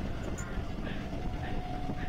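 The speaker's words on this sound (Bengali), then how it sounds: "ট্রেন ফুল স্পিডে যাচ্ছে" An EMU local train running at full speed toward Katwa, heard from inside as a steady, dense rumble and rattle of wheels and carriage, constant and moderately loud with no pauses.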